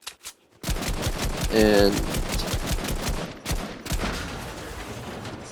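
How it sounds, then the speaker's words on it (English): Blue assault rifle fire in Fortnite, a long run of sharp, evenly spaced shots close and loud, with someone talking briefly over the start. "That takes 5 shots from a blue AR to destroy."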